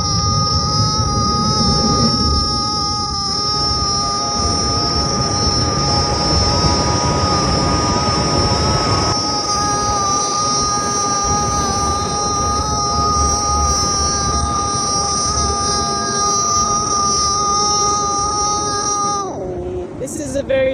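High-power electric race car drawing about 450 kilowatts at peak acceleration, giving a loud, sustained high-pitched motor whine with steady tones that falls away sharply at the end, with people talking over it.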